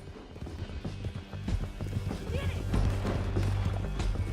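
Horse hooves galloping in Red Dead Redemption 2, rapid rhythmic clip-clop growing louder and heavier with a low rumble beneath, a brief whinny, while someone speaks briefly.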